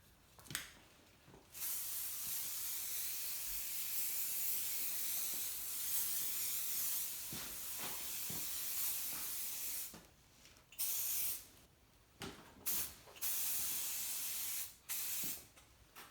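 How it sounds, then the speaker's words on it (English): Silicone lubricant sprayed from an aerosol can onto a cast table saw top: several close, sharp hissing bursts, one long steady spray followed by shorter quick blasts with quiet gaps. "So then I like to take some silicone lubricant here, and I just hit the top with that."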